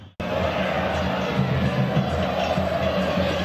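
A Brazilian football stadium crowd of Flamengo and San José fans at a Libertadores match roars steadily, a dense wall of cheering that kicks in abruptly and holds loud and constant.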